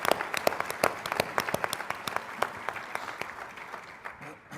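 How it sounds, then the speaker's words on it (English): Conference audience at a governor's rural task force panel giving a round of applause, a brisk patter of many hands clapping that starts strong and gradually thins out over several seconds. "Let's give them a round of applause."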